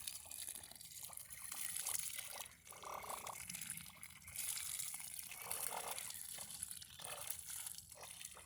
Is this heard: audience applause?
no